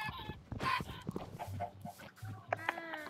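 Several video-game chickens cluck and squawk in short bursts, with a low repeating thump underneath; no talking.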